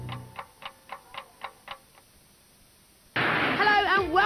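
Time bomb ticking effect in a late-1990s television advert, seven sharp, evenly spaced ticks that fade out, followed after a short silence by loud music.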